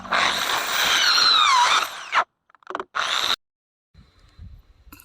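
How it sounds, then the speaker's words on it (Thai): A power drill whines loudly for about two seconds while boring holes in PVC pipe, then short bursts follow with brief pauses, ending in quieter handling clatter. "ทำการเจาะเสร็จเรียบร้อยแล้วครับ"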